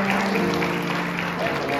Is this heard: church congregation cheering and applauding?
yes